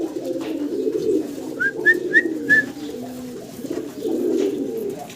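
A pair of Bombay pigeons coos softly amid steady low rumbling background noise, with a few brief whistled chirps in the middle.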